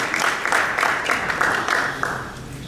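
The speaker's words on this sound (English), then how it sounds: "Please, a round of applause for her." An audience at a formal health event applauds an ambassador, a steady sheet of many hands clapping at moderate loudness throughout, swelling slightly in regular pulses.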